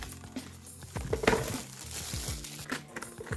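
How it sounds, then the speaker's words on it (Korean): Plastic film wrapping around a set of 12 Liquitex Heavy Body acrylic paints crinkles and crackles up close, in an irregular, continuous rustle with sharper crackles. "물감은 이렇게 비닐에 쌓여진 채로 12가지 색이 들어있어요."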